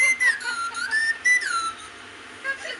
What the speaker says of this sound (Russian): смотри, в нее можно свистеть